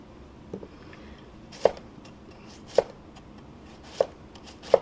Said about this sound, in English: Alright, so the cabbage, basically just going to cut the end.